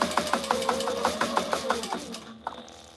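A sewing machine stitching a tactical chest rig runs in a fast, even train of mechanical clicks and whirs, close and clear, slowing and stopping near the end.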